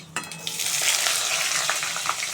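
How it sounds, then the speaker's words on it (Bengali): Onions hit hot oil in a wok already seasoned with dried red chilli, bay leaf, panch phoron and cumin, giving a loud, continuous close-up sizzle with a few stirring clicks. "পেঁয়াজটা ভাজা ভাজা হবে"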